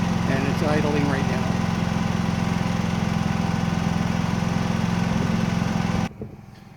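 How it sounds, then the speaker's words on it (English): A Predator 9500 generator's engine idles in a steady, loud, even drone with a constant throb for several seconds before cutting off abruptly into quiet. "And it's idling right"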